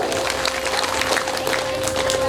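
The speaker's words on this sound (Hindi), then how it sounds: "ताली बजाओ" Scattered clapping rises from an audience at a rural Gondi storytelling gathering, a busy, uneven patter of hands with a faint steady tone beneath and no clear speech.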